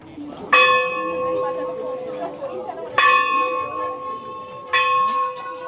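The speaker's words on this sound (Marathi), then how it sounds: "हीच ती घंटा आहे जी बाजीराव पेशव्यांनी या मंदिराला भेट म्हणून दिली होती" A Ganpati temple bell in Nashik is struck three times, each clang ringing out with a bright, sustained metallic tone that slowly decays before the next strike.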